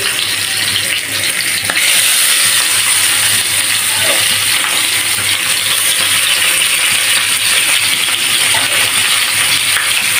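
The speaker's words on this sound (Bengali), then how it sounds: "মাছ আর কলা একত্রে ভেজে নেব একদম ফাইন করে।" Fish and banana pieces frying in oil in a hot wok give a loud, close, continuous sizzle and hiss, with a few sharp clinks of a utensil against the pan.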